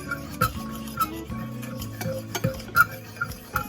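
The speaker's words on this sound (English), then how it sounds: "I'm going to whisk all this in and try to get all this oil blended into this sourdough" A whisk beats oil into a sourdough starter in a bowl, a series of close, irregular scraping and clinking strokes against the sides, with no one speaking.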